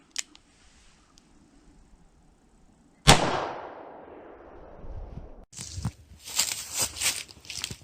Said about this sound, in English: Next, I'm gonna be shooting 38 Special lead hollow point.